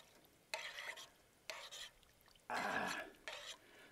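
A spoon stirs a pot of milky liquid, making four separate scraping, swishing passes at a steady pace, close and fairly quiet.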